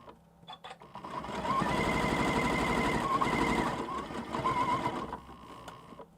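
A sewing machine stitches a quilt block, running in a steady close whir with a rapid needle rhythm for several seconds, starting and stopping at the ends, no talk.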